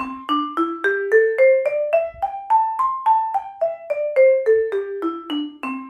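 A plucked instrument plays a minor pentatonic scale up and then back down, one clear note at a time at a steady, moderate pace.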